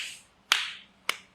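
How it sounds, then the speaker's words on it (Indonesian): A hand patting a stroke patient's body during a massage, two sharp, close slaps about half a second apart with short fading tails. "Nah, sekarang saya tepuk begini."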